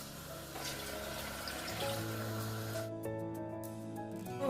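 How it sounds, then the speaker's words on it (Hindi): Two glasses of water pour into a pot of haleem, a steady, fairly faint splashing and running-water wash that carries on for several seconds without pause. "2 गिलास जो है मैं इसमें वाटर डालूंगी।"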